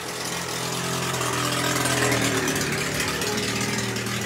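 A steady, loud mechanical drone and rumble of the Pandharpur–Nizamabad Express passenger train pulling away toward Parli on the Latur–Parbhani line, continuous and unbroken with no voices.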